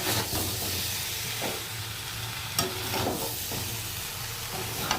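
Curry sizzles and fries in a pan while being stirred, a steady hissing bed broken by a few soft spoon scrapes and taps at close range.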